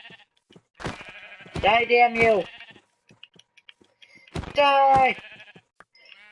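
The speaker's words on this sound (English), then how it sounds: "The sheep, they're invading. They're gonna take over the world with their pointless droning noises of meh." Minecraft sheep bleating twice, two loud drawn-out nasal baas a few seconds apart, with a voice shouting between and over them.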